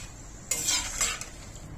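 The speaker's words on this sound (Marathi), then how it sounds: "हे शेंगदाणे छान तळले गेलेले आहेत आता आपण हे काढून घेऊया" Fried peanuts being scooped out of a pan of hot oil for maize poha chivda, a short burst of metal spoon scraping and rattling over a faint sizzle, close and brief.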